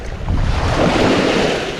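Sea waves wash against a storm-damaged breakwater along the shore in Balatan, with a fishing village and boats nearby, as steady wind buffets the microphone in a continuous rushing roar, no voices.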